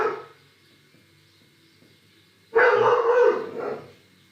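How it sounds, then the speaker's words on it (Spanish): Several excitable pet dogs bark in a loud burst indoors after a few seconds of quiet, with a brief yip at the very start and the barking trailing off toward the end. "Perdón por mis perros que son medio revoltosos."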